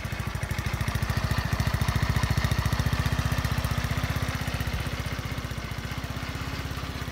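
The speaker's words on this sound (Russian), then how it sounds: "Присутствует здесь электрозапуск, вот так он работает." A 150 cc scooter engine runs at a steady idle after an electric start, with a fast, even putter that stays loud and close throughout and has no other sounds.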